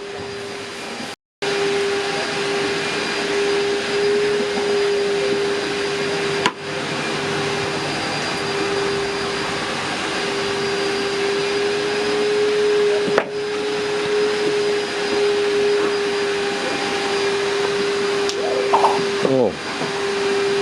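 A heat gun blows hot air over a car headlight lens being restored, giving a steady loud airflow roar with a constant tone, briefly cutting out once near the start.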